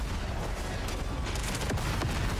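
Explosions from a chain reaction destroying a starship's reactor and ion drives in the Star Wars Outlaws video game boom as a rumbling, crackling barrage of blasts, steady and moderately loud throughout.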